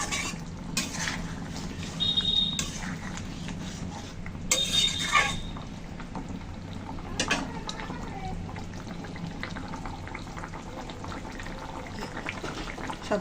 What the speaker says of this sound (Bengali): এখানে আদা আর একটু জিরা দিয়ে দিচ্ছি। এখন আবার জিরার গুঁড়া দিয়ে দিলাম হালকা, আবার একটু। সুন্দর করে মিশিয়ে নিলাম সব কিছু।